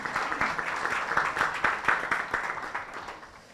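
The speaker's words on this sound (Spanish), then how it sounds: "Un aplauso para los tres," A seated audience at a regional open innovation panel in San Martín applauds three panelists, a dense round of clapping that holds steady at moderate volume, then thins and fades toward the end.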